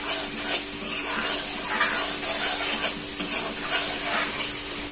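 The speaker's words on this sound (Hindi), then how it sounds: "अब हम इसे टमाटर डालकर थोड़ी देर इसे चलाएंगे" Chole with tomatoes added being stirred in a frying pan, a continuous sizzle with scraping spoon strokes close up, no voices.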